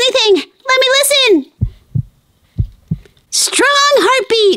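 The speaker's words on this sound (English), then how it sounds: "Strong heartbeat." A muffled, soft double-thump heartbeat of a baby turtle inside its egg sounds a few times in the gap between bursts of a bright, animated voice, which talks before and after the beats.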